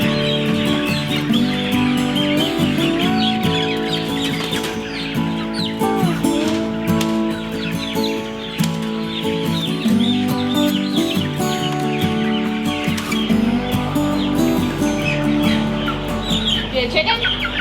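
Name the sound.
farm chickens clucking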